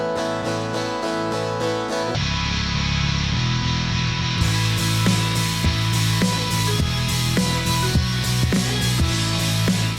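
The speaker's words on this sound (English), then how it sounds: "Here's how you can make your own guitar amps in Serum sound like this." Guitar amp simulation built in the Serum synthesizer, playing a dense, loud distorted riff with sustained chords and steady low-end chugging throughout, no talking.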